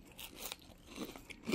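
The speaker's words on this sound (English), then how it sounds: "So let me give this a bite." Crunchy bites into a crispy potato and cheese corn dog, a few close crackling crunches and chewing sounds, fairly quiet with no talking.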